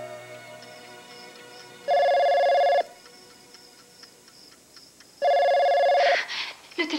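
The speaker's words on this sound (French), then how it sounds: "Le téléphone." A home telephone bell rings twice in loud, sustained bursts about a second long, separated by a pause, over quiet room tone.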